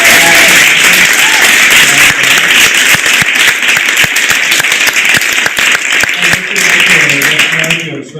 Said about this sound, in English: let's all have a round of applause for Mr.